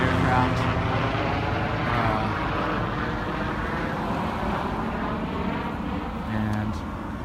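Aircraft drone overhead during a wildfire in Santa Rosa, California, a steady broad engine roar that persists throughout with no break.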